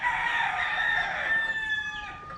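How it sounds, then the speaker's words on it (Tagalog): A rooster crows loudly and close, one long drawn-out cock-a-doodle-doo that trails off, with no talking. "mga manok."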